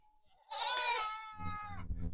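A goat bleats once, a long wavering cry up close, followed by faint low rumbling noise.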